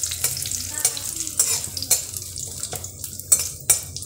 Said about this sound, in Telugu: ఆయిల్లో కొంచెం కరివేపాకు కూడా వేయించుకొని తీసి పక్కన పెట్టుకోవాలి.